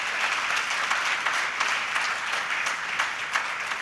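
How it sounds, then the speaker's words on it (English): Audience applause at a national cyber-safety awards ceremony, dense, continuous clapping from a crowd, even and fairly loud throughout. "Big round of applause."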